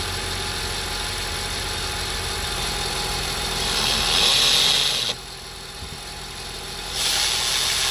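A Honda CR-V with a 2.4 engine idles steadily after a spark plug replacement, a loud, even hum close by that briefly dips in level before rising again, with no talking.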